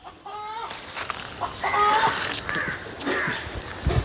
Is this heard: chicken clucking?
yes